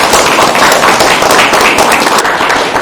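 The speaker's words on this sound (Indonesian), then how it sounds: "Tepuk tangan bagi kita semua" Audience applause from university students in a lecture setting, a dense steady patter of many hands clapping throughout, loud and close.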